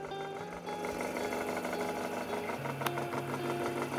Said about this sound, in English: the motor stops receiving electrical current and the system stops